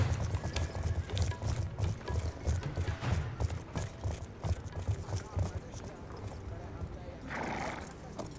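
Horse hooves in a Call of Duty Black Ops 2 campaign mission, a fast galloping clip-clop rhythm with a neigh near the end, heard under game sound and a person talking over it.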